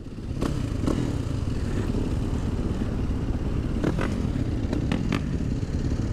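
A 450 motorcycle cruises along a highway with a steady, rough engine drone and wind rush, close and constant, broken by a few brief clicks and clatters.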